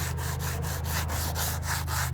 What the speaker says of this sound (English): Then I'm gonna take some 150 grit sandpaper and sand this down.